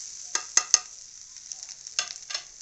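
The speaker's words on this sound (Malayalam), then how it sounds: "നല്ല ബ്രൗൺ കളറാകുന്നിടം വരെ നമുക്ക് ഈ തേങ്ങയൊന്ന് വറുത്തെടുക്കാം." Grated coconut roasting in a pan until brown for koottu curry, with a faint steady sizzle under a few sharp spoon scrapes and clinks as it is stirred.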